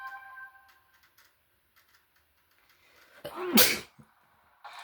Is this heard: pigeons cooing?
no